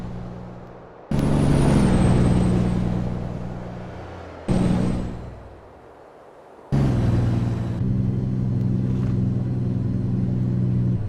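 A heavy truck engine brake in Euro Truck Simulator 2, on a Freightliner Coronado, rumbles in loud bursts, roaring on, fading, then kicking in again with a deep, steady growl.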